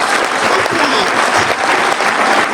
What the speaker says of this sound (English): Can we give our God a applause?